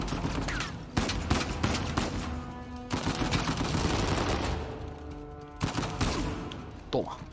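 Gunfire from Uncharted 4 rings out in sharp repeated shots and short bursts, loud and close, with game effects and a voice talking between the volleys.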